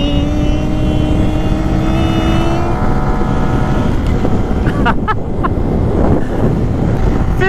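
Kawasaki KLX300SM motorcycle engine at full throttle, a loud steady drone with rising tonal whine under heavy wind rush, then rough buffeting as the pitch fades.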